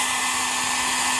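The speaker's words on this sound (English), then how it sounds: "I'm going to use this hair dryer and see if I can get all the moisture out of it." Steady, loud hair dryer blowing continuously at close range to dry soapy water out of a camper's leaking propane regulator, a constant whooshing roar with a fixed motor hum and no speech.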